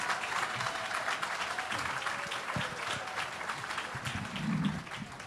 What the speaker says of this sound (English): can we also have a round of applause for all of our board members who are here this evening